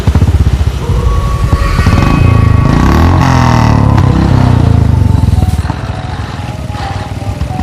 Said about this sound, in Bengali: বাইকটা হঠাৎ নিজে থেকে স্টার্ট হয়ে গেল।